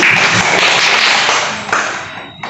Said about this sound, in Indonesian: Bagus, tepuk tangan buat Anu dulu